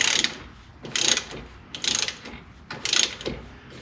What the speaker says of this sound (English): I need to loosen these clamps on both sides so I can turn it